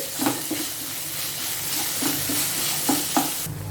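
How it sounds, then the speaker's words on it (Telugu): Green peas and onions fry together in a pan under a constant sizzle. Sharp stirring scrapes recur every half second or so, and no one speaks. "ఇప్పుడు ఈ బఠానీని ఒక రెండు నిమిషాలు ఈ ఉల్లిపాయలతో పాటు ఫ్రై చేసుకోవాలి"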